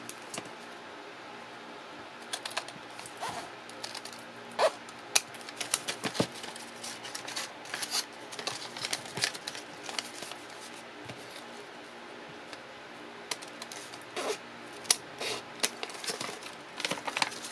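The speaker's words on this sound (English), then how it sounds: "what you want to do next is cut the edges" Scissors cut along the edges of paper bags for a junk journal, producing soft, irregular snips and paper rustles at close range, fairly quiet throughout.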